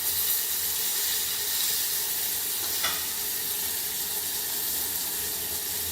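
Ginger, green chillies and tomatoes sizzle steadily in hot oil, a continuous, even frying hiss with no talking over it.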